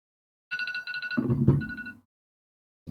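A timer alarm rings in quick repeated electronic bursts for under a second, then gives way to a louder, rougher rumble before the sound cuts off.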